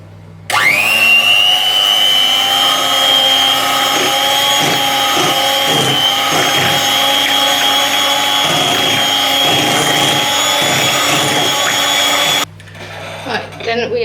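An electric hand mixer beating sugar for carrot cake cupcakes whirs on abruptly, holding a loud, steady high-pitched motor whine close by for about twelve seconds before cutting off, followed by faint clatter.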